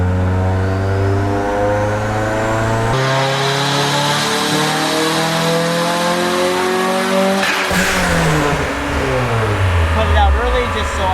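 Stock Honda Prelude turbo engine on pump gas revs hard during a power run, a loud continuous drone with rising and falling pitch sweeps and a sharp shift-like change partway through.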